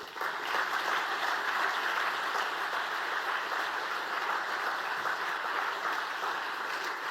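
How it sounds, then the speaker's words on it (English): Sustained audience applause at a summer startup showcase, steady dense clapping filling the room from start to finish at moderate loudness, no voices over it. "Can we please give it a round of applause to all of the people here that have contributed"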